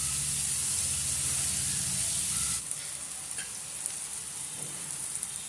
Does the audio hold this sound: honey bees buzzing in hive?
no